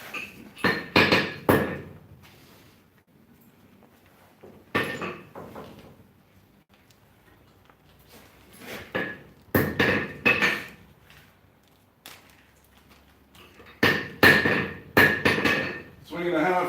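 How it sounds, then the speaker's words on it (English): A hand hammer strikes metal at a blacksmith's anvil while smithing pipe tampers, ringing out in close, loud bursts of rapid blows separated by short quiet pauses. "Swinging a hammer for the first time in a long time"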